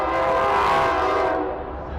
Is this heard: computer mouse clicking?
no